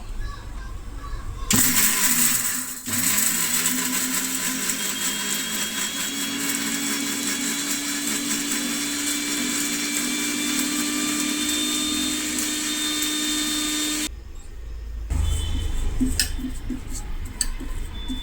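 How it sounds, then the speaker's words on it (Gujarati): A kitchen mixer grinder grinds a coconut oil herbal paste for homemade hair oil, giving a steady loud whirring drone that runs about twelve seconds, then stops briefly and restarts. "હવે આપણે પીસી લેશું"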